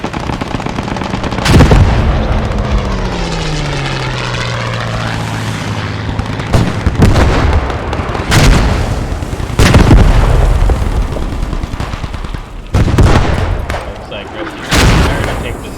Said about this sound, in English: We got mortars coming in.